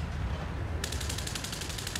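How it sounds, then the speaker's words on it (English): A burst of rapid machine gun fire in the video game War Thunder starts abruptly and rattles on in a fast, even rhythm over a low rumbling background. "I hear gunfire"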